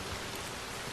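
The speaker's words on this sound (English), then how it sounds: "The wind's picking up here. It looks like it is already starting to rain." Steady rain with wind in the Red Dead Redemption 2 game world, a dense continuous wash of noise with no voices.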